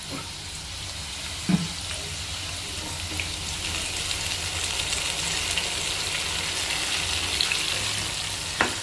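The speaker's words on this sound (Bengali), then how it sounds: "এবার ভালো করে নেড়ে চেড়ে মশলাটাকে কষিয়ে নেবে" Ground spice paste frying with potatoes in a pan for a corn curry, a steady close sizzle across the whole stretch with a few soft stirring knocks and scrapes.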